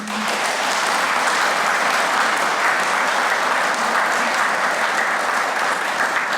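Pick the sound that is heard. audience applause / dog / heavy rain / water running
audience applause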